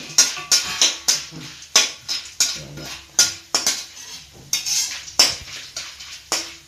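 A metal spoon stirs whole spices for huli powder as they roast in hot oil in a pan, giving a steady series of sharp scraping clinks about twice a second, close and clear, with a faint sizzle underneath.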